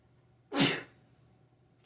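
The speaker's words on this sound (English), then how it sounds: "Uh-oh, I need to sneeze." One sharp, loud sneeze bursts out close by, then quiet, with the start of another sound right at the end.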